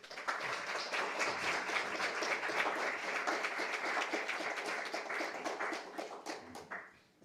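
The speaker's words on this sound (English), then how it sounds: "Did you hear the applause?" Steady applause rises from an audience after a talk, a dense wash of clapping that holds evenly and then thins out and fades near the end.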